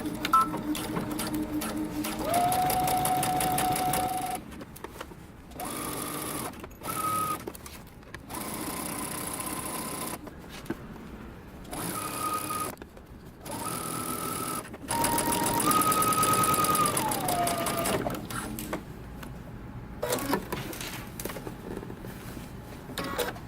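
A sewing machine back stitches along a dress seam in short bursts of rapid mechanical chatter, stopping and restarting several times between pauses, close and fairly quiet.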